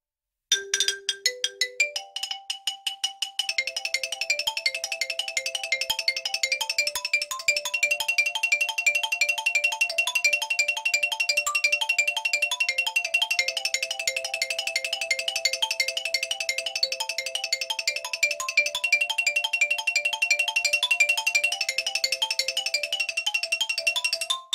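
A solo xylophone plays the march Erinnerungen an den Zirkus Renz, opening with rapid rising runs and continuing in bright, fast repeated wooden notes with a steady rhythm, close and clear with no voices.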